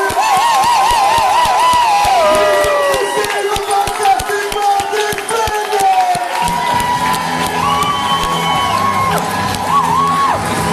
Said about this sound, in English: Let me hear some Americans whooping and cheering.